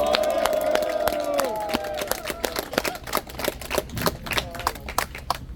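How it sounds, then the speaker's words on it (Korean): Audience at a political rally on election fairness clapping after a call for applause, sharp irregular claps starting under a fading amplified voice and then continuing on their own, moderately loud and close. "크게 박수 한번 부탁드립니다"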